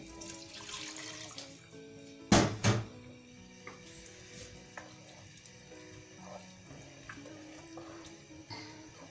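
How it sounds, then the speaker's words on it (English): Stock from boiled meat splashes and trickles into a pot of Nigerian egusi soup, with a loud pouring burst partway through and steady bubbling and kitchen clatter around it. "I'm still going to add the water from the stock,"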